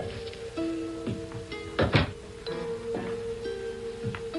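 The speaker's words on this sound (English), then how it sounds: "I pushed open the doors." Wooden double doors being pushed open in a radio drama, a muddy night scene in a house: a loud thunk and creak near the middle, with soft hum and faint rain-like background throughout, no voices.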